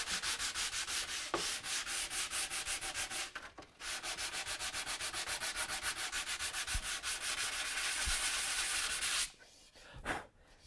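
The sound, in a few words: hand sanding a cedar wooden sword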